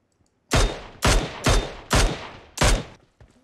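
A burst of five sharp gunshots rings out in PUBG Mobile. They come in an uneven rhythm, each loud crack decaying quickly, with a faint click near the end and no voices.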